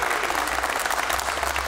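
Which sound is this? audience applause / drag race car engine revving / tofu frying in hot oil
audience applause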